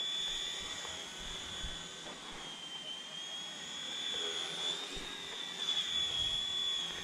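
A small RC helicopter hovers and comes in to land, heard as a thin, steady high-pitched rotor and motor whine with wind noise, fairly faint and without speech.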